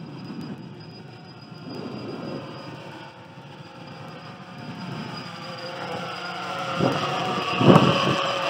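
A WLToys V303 Seeker quadcopter flies outdoors in gusty wind, its steady motor whine blending with heavy wind rumble that builds toward the end.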